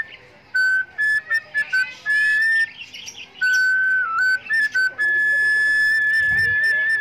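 Small birds chirp and whistle at a bird-feeding area in a nature park in Bandung, with thin, high tweets repeating in short bursts over a steady background hum, fairly close and clear with no talking.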